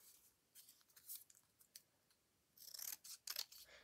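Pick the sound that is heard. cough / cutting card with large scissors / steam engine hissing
cutting card with large scissors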